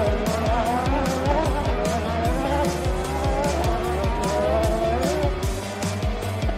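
Racing cars roar loudly and continuously with revving engines and tire squeal, a dense, busy motor sound filling the whole stretch without pause.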